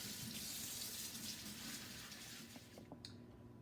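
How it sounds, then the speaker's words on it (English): Water runs steadily from a kitchen sink faucet while celery is scrubbed clean with a cloth, a continuous close rush that eases slightly near the end with a few small splashes. "So we use that scrubbing cloth and clean it real good."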